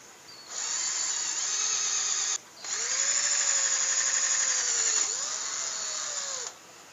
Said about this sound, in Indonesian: ini akan saya lubangi dengan lubang 35 mm